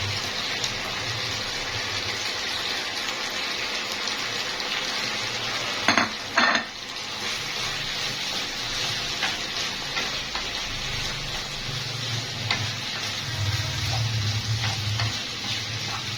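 Onions sizzling as they fry with liver in a pan, a steady close crackle throughout with a couple of brief stirring clatters from utensils partway through.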